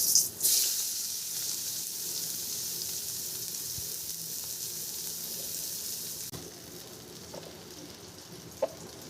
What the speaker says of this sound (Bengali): তরকারির জন্য পেঁয়াজ ভাজবো।